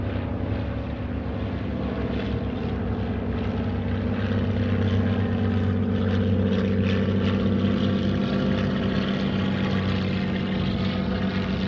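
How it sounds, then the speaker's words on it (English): Small propeller service plane flying over the island of Colonsay, Scotland: a steady, loud engine drone with a rough buzzing hum that holds for the whole stretch, heard outdoors with some wind and no talking. "I think that's a service plane that's brought, probably brought all sorts in, mail, parcels I guess"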